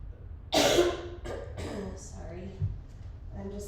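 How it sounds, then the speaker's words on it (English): A harsh, loud cough bursts out during a home arm workout with leg exercises. Softer coughs, throat clearing and breathy voice sounds follow close by. "I'm just coughing through this whole workout"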